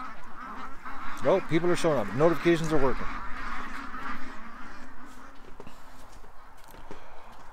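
Ducks and geese honk and quack in a rapid burst of calls early on, loud and close, then fade back under someone talking over windy outdoor noise.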